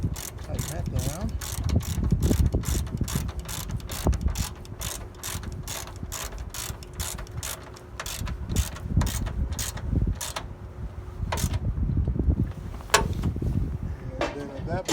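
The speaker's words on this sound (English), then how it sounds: "I'll get my socket out. Tighten that down." A socket ratchet clicks in rapid, steady bursts while tightening a hood lift strut bracket on a Jeep Wrangler JK, close and loud, with brief pauses between strokes and some background clatter.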